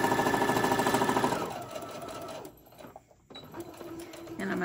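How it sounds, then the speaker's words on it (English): A sewing machine back stitching a fabric basket, giving a quick rhythmic run of stitching that stops partway through, followed by quieter handling noises and a brief mechanical whir near the end. "And I'm going to back stitch here as well."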